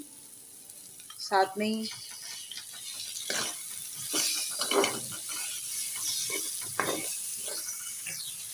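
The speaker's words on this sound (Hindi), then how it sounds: "ये प्याज हमने भी थोड़ी सी, इसको भी सौते सी कर लेंगे" Sliced onions sautéing in a pan with a soft, steady sizzle, interrupted by repeated scraping stirs of a spatula, while someone talks quietly over the cooking.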